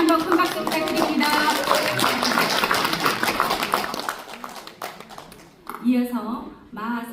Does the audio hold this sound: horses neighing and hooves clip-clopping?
no